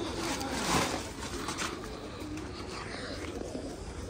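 Domestic pigeons kept in a loft coo softly and murmur nearby, with faint flutters and shuffling mixed into a steady background hum.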